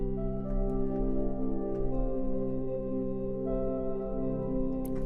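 A soft, delicate synth pad, the Cells 3 patch from Spitfire Audio's Olafur Arnalds Cells library, holding sustained warm chords with faint sparkling accents, steady and alone throughout.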